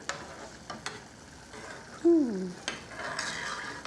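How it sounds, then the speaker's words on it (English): A spoon stirs food in a hot pan, giving soft scraping and clinking strokes with a faint sizzle and one brief squeal midway, all close and fairly quiet. "And then I got to stir."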